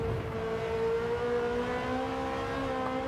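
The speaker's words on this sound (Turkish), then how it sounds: "Süper hızlanıyor ya. Direkt 300'e kafa atıyor yani." A 2019 Ferrari F8 Tributo accelerates hard in Gran Turismo 7, its engine holding a steady, rising drone with clear harmonic whine throughout, close and continuous with no talk.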